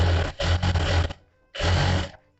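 An electric sewing machine stitches the corner of a princess cut blouse in two runs, a longer whirring burst and then a shorter one after a brief pause, close and steady.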